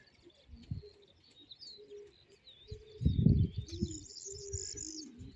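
Homing pigeons coo softly in low, throaty bursts, with a louder cluster in the middle, while small birds chirp faintly in the background.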